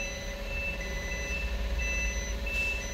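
Reverse-gear warning beeps from a car, a steady repeating electronic tone pattern sounding continuously at moderate level over a low engine hum, with no talking.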